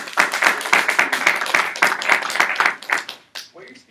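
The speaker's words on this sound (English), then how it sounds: "Let's give Jay a round of applause." An audience applauds a speaker with a quick run of sharp claps that fades near the end.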